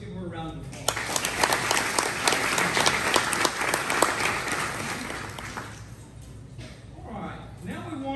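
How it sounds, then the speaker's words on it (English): Audience applause fills a softball awards banquet hall, loud and sustained with dense clapping that tapers off near the end as a voice begins speaking. "So let's give her a round of applause."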